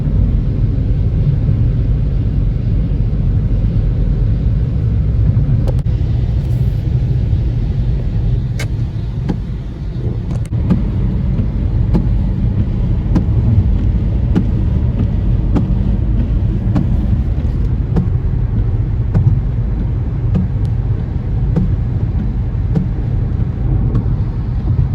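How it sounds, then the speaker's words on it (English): Inside a car driving after midnight through a thunderstorm between Waco and Fort Worth, a constant loud road-and-wind rumble fills the cabin, with faint scattered ticks and clicks over it. "we're still getting kind of like this airy kind of storm, kind of lots of wind blowing and everything"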